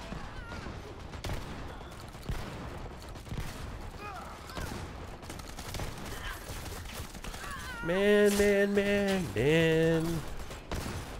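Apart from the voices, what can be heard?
gunfire in a gunfight, from the video game Dirty Bomb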